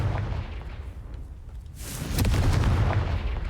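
The Confringo blasting spell goes off in the video game Hogwarts Legacy, a deep booming explosion that swells in after a brief hiss and rumbles on loudly to the end, with no talk.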